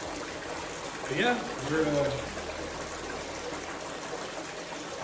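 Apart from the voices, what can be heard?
water flowing over gold panning equipment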